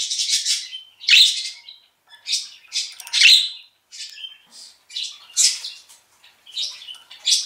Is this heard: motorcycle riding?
no